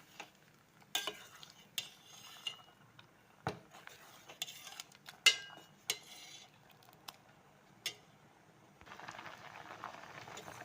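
A spoon scrapes and taps against a pot as mango curry is stirred, with a soft bubbling simmer rising toward the end.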